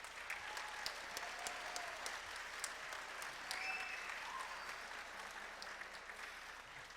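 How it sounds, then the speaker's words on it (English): A school concert audience claps steadily for a junior high band director, sustained applause with distinct individual claps and a few faint whistles, heard from a distance at moderate level. "Would you give her a round of applause, please?"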